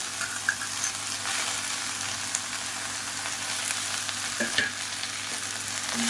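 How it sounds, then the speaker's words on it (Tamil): Mint, coriander and curry leaves sautéing in a pan, a continuous moderate sizzle with a few light stirring clinks near the end, no talking. "இவ்வளோதான் நல்லா வதக்கி விட்டுக்கலாம்"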